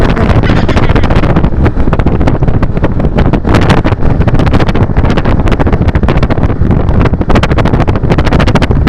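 Strong wind buffets loudly and constantly against a helmeted motorcycle rider on a road trip, roaring and thumping against the microphone as if rushing past at speed.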